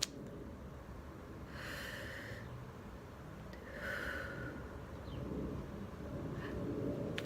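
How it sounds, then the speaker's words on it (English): A person demonstrates slow, deep breathing to calm anxiety, with two drawn-out, airy breaths heard faintly and close against a low steady background. "So take those deep breaths."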